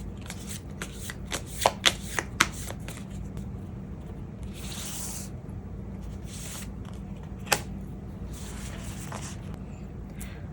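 Tarot cards being shuffled for an advice draw, heard as soft, faint rustling and sliding of the deck over a low steady hum, with a few sharper taps and snaps in between.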